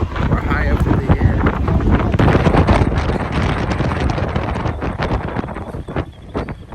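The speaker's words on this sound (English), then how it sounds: "Feel that wind? Because we're high up in the air." Loud, steady wind buffets the microphone high up above New York City, a continuous roaring rush with gusty swells throughout.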